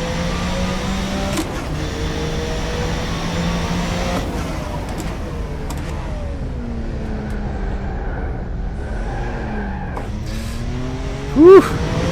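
Group C race car in rFactor 2 at Spa: a steady engine drone rising and falling through gear changes, with a sharp tire squeal near the end as the car slides on corner exit.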